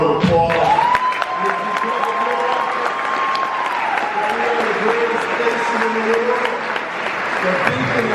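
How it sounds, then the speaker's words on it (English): Graduation crowd breaks into loud, sustained applause for veterans, dense clapping with a few cheers, while a voice or tone briefly rises over it early on. "let's give them a big round of applause"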